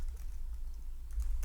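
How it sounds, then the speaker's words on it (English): Someone types on a computer keyboard, producing a few faint, sparse key clicks over a low background hum. "you can just start typing that in here"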